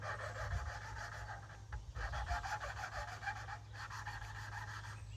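Quiet, steady rasping and rubbing as a Kohler engine valve is lapped against its seat, a gritty back-and-forth grinding of metal on metal that continues without pause.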